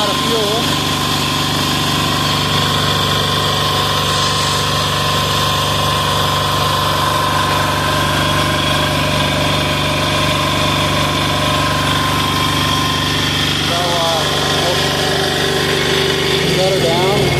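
A small diesel engine bought from Amazon runs steadily on hydraulic jack oil, idling with a constant hum and vibration, loud and close throughout, with brief voices near the end.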